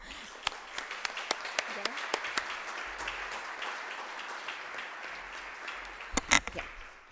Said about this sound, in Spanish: Así que otro aplauso más.